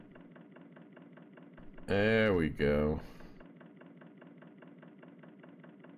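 A narrowboat engine idles in the game Narrowboat Simulator, a low, steady rhythmic chugging that pulses evenly throughout, briefly covered by someone speaking.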